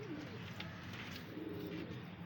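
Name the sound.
pigeon cooing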